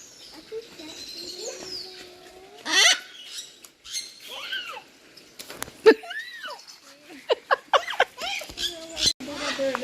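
Birds at a bird farm, a mix of chirps, squeaks and calls of varying pitch scattered through the clip, close and fairly loud, with people talking over and between them.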